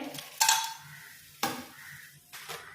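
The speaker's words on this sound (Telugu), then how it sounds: "వేడయ్యాక 2 టేబుల్ స్పూన్లు ఆయిల్ వేడయ్యాక ఈ బిర్యానీ హోల్ మసాలా అన్నీ కూడా వేసుకోవాలి." Whole biryani spices dropped into hot ghee and oil for Chettinad chicken biryani, giving three sharp sizzling bursts that each flare up loudly and then fade to a softer crackle.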